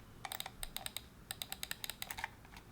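Middle-button clicks on an Armaggedon Raven 3 gaming mouse, a few dozen quick, sharp ticks in irregular bursts separated by brief pauses, close and faint, with no speech.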